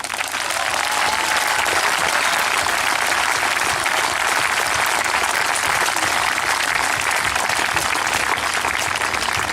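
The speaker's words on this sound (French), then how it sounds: "j'aimerais que là aussi on les applaudisse vraiment très fort" A protest crowd at a rally against the GCO motorway project in Kolbsheim applauds lawyers, sustained dense clapping, steady and loud throughout without a break.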